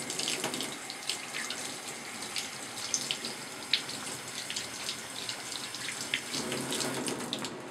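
A small stirrer rinsed under a running tap during home C-41 colour film developing: a steady, moderately close stream of water splashing into a sink, with faint clinks and drips scattered through the wash.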